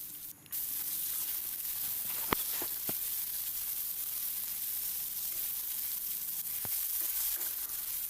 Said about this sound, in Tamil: இப்படி ஒரு 2 நிமிஷத்துக்கு இந்த மாதிரி வதக்கி விடலாம்